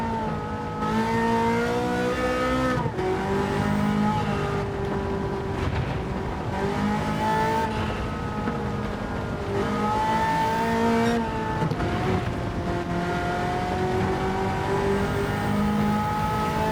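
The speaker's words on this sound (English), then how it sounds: "the Shelby GT 350 does sound incredible like this Ferrari F40" A Ferrari F40 engine revs hard on the Nürburgring, its rasping note climbing and dropping through gear changes in a steady, loud, close run lasting the whole stretch, with no voices.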